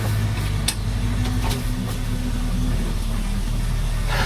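A rebuilt 1971 International Travelall 1010 engine is held at high revs, a loud, steady, close-up drone that keeps an even pitch from start to finish, with no speech.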